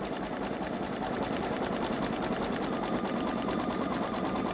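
A Babylock Solaris 3 (Vision) embroidery machine stitches out a hooped design, giving a fast, even mechanical chatter with a continuous motor hum, steady and close throughout.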